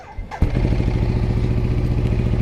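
A Ducati Diavel motorcycle engine cranks briefly and catches, then settles into a loud, close, throbbing idle with a steady pulsing rhythm.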